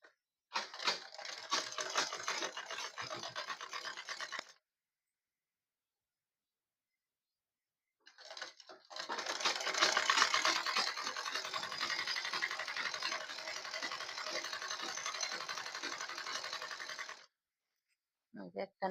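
Household sewing machine stitching, a rapid buzzing clatter in two long runs separated by a few seconds of silence, close and fairly quiet.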